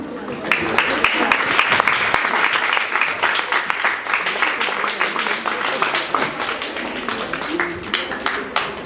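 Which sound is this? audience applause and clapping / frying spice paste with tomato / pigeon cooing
audience applause and clapping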